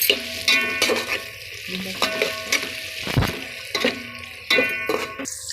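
Onions sizzling in a pan at home, with clattering stirs and scrapes breaking up a steady frying hiss; close and fairly loud, with no talking.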